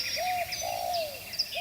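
Birds chirp and coo in quick, bright repeated calls, close and clear, as a comic effect of birds nesting in a man's beard.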